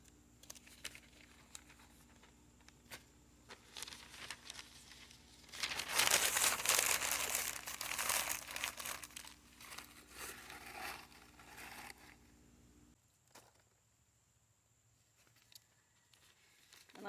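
Old paper crumpled and rolled by hand as kindling for a brick rocket stove, a close, dry crinkling that swells into a loud burst mid-clip, then fades to quiet with faint rustles.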